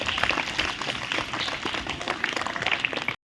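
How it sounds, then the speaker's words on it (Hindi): An audience at a talk on building a poverty-free society claps loudly and steadily for about three seconds before cutting off abruptly. "जोरदार ताली बजाइए"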